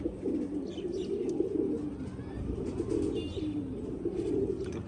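A pigeon undergoing treatment, with a lump being cut open with a blade, makes a low, continuous throaty cooing close by, steady throughout with little break.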